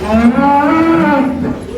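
A cow lowing in a barn where the cattle are left unmilked and lie on unbedded floors, one long, loud, close moo lasting nearly two seconds with no talk.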